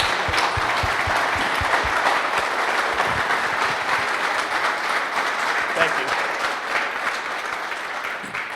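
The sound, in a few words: audience applause for a guest speaker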